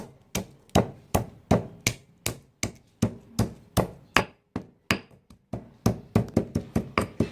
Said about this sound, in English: Now I'm going to grind them. Do it gently.